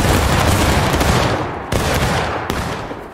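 A volley of musket fire from a Civil War reenactment company, loud and close, with a dense crackling burst that keeps rolling and echoing, sharp secondary reports near the end.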